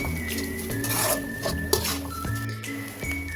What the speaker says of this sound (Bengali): এরপরে ভালো করে এটাকে আবার নাড়াচাড়া করে নিতে হবে।